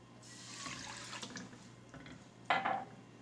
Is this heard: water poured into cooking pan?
yes